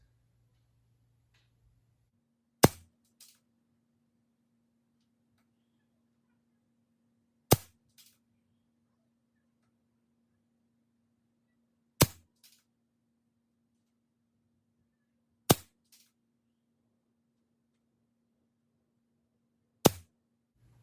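Benjamin Discovery air rifle firing pellets: five sharp, isolated shots spaced several seconds apart, each a crisp crack with a faint follow-up tick, over a quiet background with a low steady hum.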